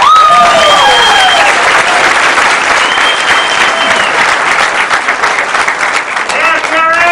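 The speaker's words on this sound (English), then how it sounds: "give her a round of applause" A room gives a senior director at a business event a loud, full round of applause, dense clapping lasting the whole stretch, with voices and whoops cutting through at the start and end.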